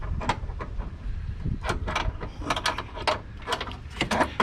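A ratchet tightening a factory-painted hood strut bolt on a Toyota Tacoma, giving repeated rapid clicking bursts in an uneven rhythm, close and fairly loud.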